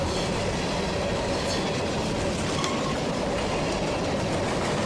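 A grain train rolls past on CSX's CE&D Subdivision, a loud, steady rumble of freight cars with faint clickety-clack from the wheels throughout.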